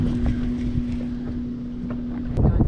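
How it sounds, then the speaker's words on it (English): Gusty storm wind blows outdoors by the water during a lightning and rain storm while fishing, a constant blustery rumble with microphone buffeting that swells near the end. "It's windy, folks."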